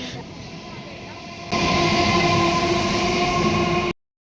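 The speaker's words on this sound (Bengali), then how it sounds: "কিছুক্ষণ বসার পরেই আমাদেরও ট্রেন চলে এলো" A local train pulls into a station during a Ras fair outing in Andul, its steady rail rumble swelling loudly midway and holding until an abrupt cutoff, with voices faintly mixed in.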